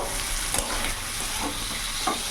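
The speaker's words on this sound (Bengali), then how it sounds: "এরই মধ্যে এখন কেটে রাখা টমেটো একটা দিয়ে দেবো।" Chopped tomato drops into a frying rohu fish curry, loud close sizzling with a few quick spoon scrapes and taps.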